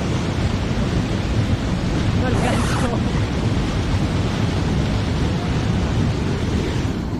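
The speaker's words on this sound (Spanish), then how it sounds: "¡Miren, este río sí está enojadísimo, mis amigos!" A swollen, fast-flowing river near a waterfall in Valle de los Chillos roars as a constant broadband rush close to the microphone, with wind buffeting and a brief shouted voice over the torrent.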